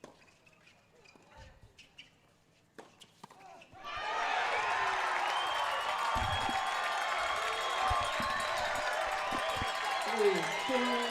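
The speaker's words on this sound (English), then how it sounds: "Crowd really getting into it." A tennis crowd at a World TeamTennis match bursts into loud sustained cheering and applause after a few seconds of quieter court sounds, the roar filling the arena with whistles and shouts near the end.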